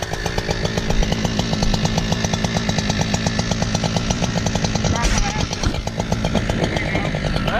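A Husqvarna chainsaw runs hard, loud and close, cutting to fell a 70-foot ash tree at a ranch, its engine snarling steadily with a rapid rhythmic chatter throughout and a brief shift in pitch midway.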